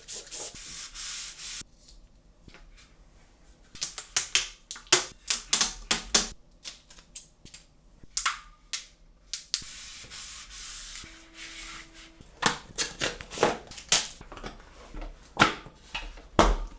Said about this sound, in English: I also read that pressing the tape down with a tube helps